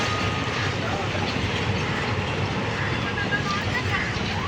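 A Pakistan Express train reversing past Wazirabad Junction in Pakistan gives a steady, loud, continuous rumble that runs unbroken throughout.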